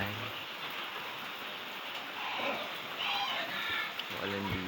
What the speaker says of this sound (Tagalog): Ulan dito guys.